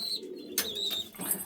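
Loft pigeons, including Fulsira birds and breeding pairs, coo in low throaty bursts at close range, joined by a couple of sharper chirps and light rustling.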